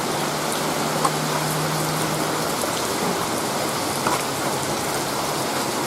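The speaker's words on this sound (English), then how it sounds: "Now this rain right here" Steady rain shower pattering onto a flooded clay yard with brown runoff water, a dense even hiss of drops sustained throughout with no voices.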